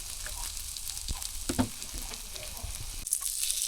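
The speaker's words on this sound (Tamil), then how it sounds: "ஃப்ரையாக இருக்கணும் மசாலாலாம் ஃப்ரையாக எண்ணெய் பிரிஞ்சு வரும்" Egg masala fries in oil in a pan for an egg gravy, giving a steady close sizzle with occasional stirring clacks.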